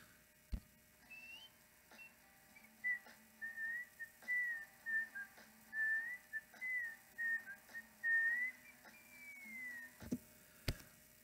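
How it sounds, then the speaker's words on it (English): A lone melodic whistle carries a slow, wistful tune at the close of a 1968 song, fairly faint, with a few soft clicks in the background. "That whistling end is the most haunting aspect of the song"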